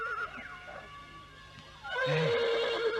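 A horse neighs in a forest, with faint whinnying early on and then a louder, close, shaky whinny rising in the last second over steady background noise.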